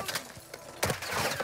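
Gunfire in the game Warzone crackles in rapid bursts of sharp shots, loud and close, with a heavier volley hitting midway and continuing to the end.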